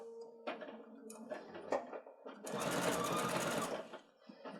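A domestic sewing machine stitches across a woven quilt's binding, starting with short stop-start bursts and settling into a steady, fast whirring run of about a second and a half before stopping, with a voice talking softly in between.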